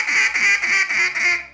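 A duck call blown the wrong way, giving five loud, evenly spaced nasal quacks in quick succession, close and alone with no talking.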